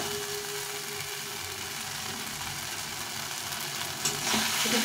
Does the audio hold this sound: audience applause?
no